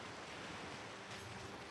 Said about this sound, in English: The river is going crazy.